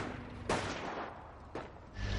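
Distant machine-gun and gunfire bursts in a World War II strategy video game, two sharp volleys against a quiet rumbling background, faint and far off, with no talking.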